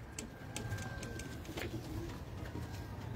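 Cheena flying pigeons at a breeder's loft coo low and softly against a steady background hum, with a few faint chirps and clicks scattered through.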